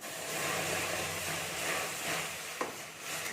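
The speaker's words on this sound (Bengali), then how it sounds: "এবার আমি আস্তে আস্তে জল দিয়ে দিচ্ছি" Water trickles slowly into half-fried semolina in hot ghee, giving a steady, fairly faint hiss and bubbling throughout. A single soft knock comes near the end.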